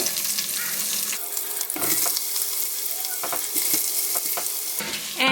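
Sausage frying in a pan, loud continuous sizzle and crackle up close, with occasional sharper spatters and stirring clatter throughout.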